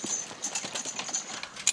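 Hooves of Boulonnais draft horses pulling teams in a coastal road race clip-clop in a quick, uneven patter, moderately close and unaccompanied by talk.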